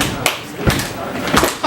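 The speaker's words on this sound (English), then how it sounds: "How about we get a little slow clap and everyone stomp your feet," A live comedy-show audience gives a slow clap while stomping their feet, three broad, evenly spaced thumps under a voice talking over them.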